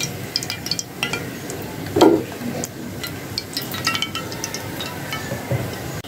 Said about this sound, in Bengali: মাছটা আমি সুন্দর করে এখন ভেজে নেব।